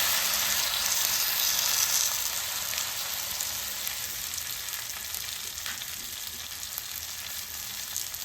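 Steady hissing sizzle of thalipeeth dough frying in oil on a hot griddle (tava), close and continuous, with no talking.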